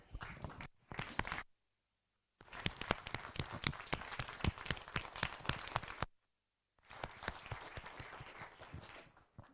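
An audience applauds at a country consultation event in Eswatini, with several bursts of fairly quiet clapping broken by short silent gaps.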